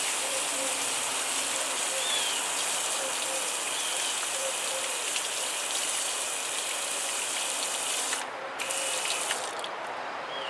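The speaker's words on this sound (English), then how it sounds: "I have my plant here and my garden hose, and I'm just gonna spray some water on the roots" Steady broadband hiss of water spraying from a garden hose onto a tomato plant's roots, continuous and close, with a brief drop in intensity near the end.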